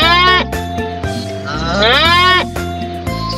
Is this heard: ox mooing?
yes